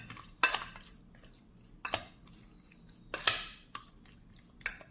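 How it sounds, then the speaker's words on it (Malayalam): Prawns being mixed with turmeric powder and salt by hand in a bowl, giving a few sharp clinks and scrapes against the dish with soft squishing between them, close and fairly quiet. "ഇനി നമുക്കിതൊന്ന് മിക്സ് ചെയ്യാം കേട്ടോ ഒന്ന് നന്നായിട്ട് മിക്സ് ചെയ്ത് കൊടുക്കാം"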